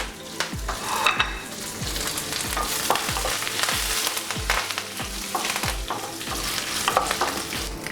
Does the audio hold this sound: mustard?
yes